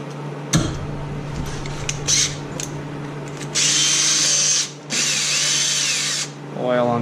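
A power drill spins up in short taps, then runs in two sustained whining bursts, close and loud, over a steady low hum, drilling holes to modify a Simplicity tractor snow blower.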